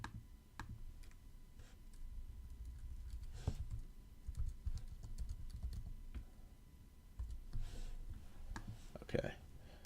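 Quick clicks from a computer keyboard as a short word is typed during a software coding session, light taps scattered over a quiet room background with a few louder keystrokes near the end.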